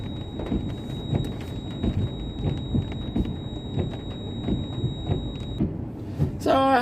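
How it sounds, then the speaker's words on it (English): Heavy rain pours down steadily outdoors on a stormy, wet day, a dense, continuous hiss that lasts the whole clip with no break and brief louder patters near the end. "with rain, it really pours, and I mean pours down"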